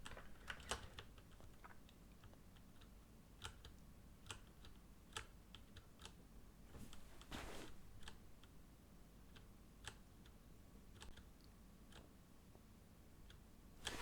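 Faint keystrokes on a computer keyboard during a C programming session, irregular quiet clicks tapping over a steady low room hiss, with no talk.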